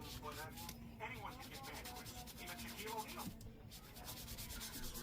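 A spatula and tongs are scrubbed clean at a kitchen sink, with a continuous rough rubbing and scouring close up that sounds loud against the quiet room.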